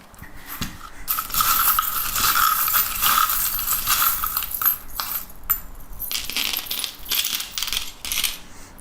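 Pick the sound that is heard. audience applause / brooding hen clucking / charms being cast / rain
charms being cast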